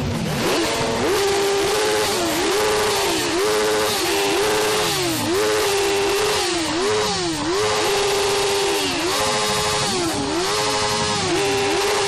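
Several motorcycle engines rev repeatedly at a motorcycle rally, rising and falling in loud, overlapping bursts with no talking.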